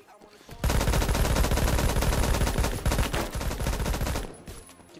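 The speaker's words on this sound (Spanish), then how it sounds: "¿Quién me está disparando?" Rapid automatic gunfire from Roblox Phantom Forces rattles in a sustained, loud burst of closely spaced shots lasting several seconds, starting abruptly and trailing off at the end.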